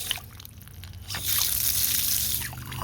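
Water runs from a newly installed outside faucet on a house, starting as faint spitting drips and air, then swelling into a steady hissing gush.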